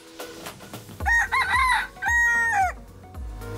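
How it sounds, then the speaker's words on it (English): A rooster crows twice in quick succession, loud and close, with the drawn-out calls ringing over faint background chatter and clucking, like the roosters heard in the Philippines. "the familiar sounds of roosters, like the ones in the Philippines"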